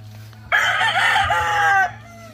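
A rooster held in a cage crows once, loud and close, a single drawn-out call lasting over a second against a low steady background hum.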